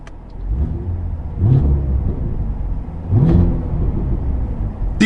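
The engine of a 2022 Cadillac CT5-V Blackwing is blipped twice with the throttle, each loud, rising rev falling back to a deep rumbling idle, heard from inside the car.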